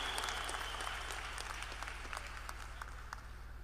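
A crowd applauds steadily, a dense patter of many hands clapping throughout, fairly loud and sustained with no voices over it.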